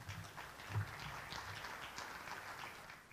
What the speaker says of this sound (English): give us a round of applause for U.S. Senator Catherine Cortez Masto